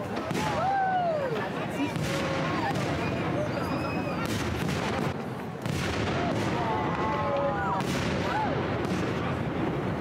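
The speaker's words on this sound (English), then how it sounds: "The fireworks were beautiful." Fireworks burst near the Eiffel Tower in Paris, a dense run of booms and crackling pops with whistling rises, loud and continuous, while people nearby shout and cheer.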